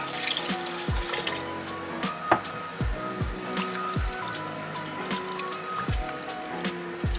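Water runs and splashes steadily into a pot of seafood chowder with potatoes, with repeated low clunks and knocks from the pot or utensils throughout, nearby and moderately loud.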